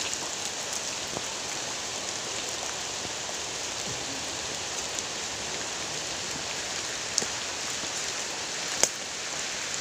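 Heavy rain pours down steadily outdoors at night in a festival park, a dense, even hiss of drops on surfaces with a couple of sharp knocks, no voices.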